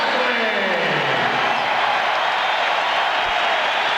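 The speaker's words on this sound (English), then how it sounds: "Gatling gets a nice round of applause" Crowd applause in a basketball arena during a 1994 NBA game between the Orlando Magic and the Golden State Warriors, a loud, steady roar of clapping filling the hall without a break.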